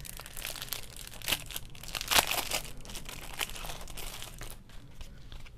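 Crisp snipping and crinkling of paper being cut in half with scissors for a planner, with irregular rustles and a few sharper crunches, close and fairly quiet.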